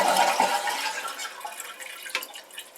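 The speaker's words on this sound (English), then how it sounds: "Lift up on the canister to drain the water" Water rushing out of a Kohler toilet tank as the canister flush valve is lifted, a splashy draining gush that tapers into softer trickles and drips, close and moderately quiet.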